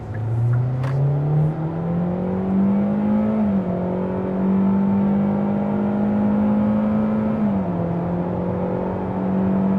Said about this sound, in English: We can open her up a little bit for real here on this multiple lane highway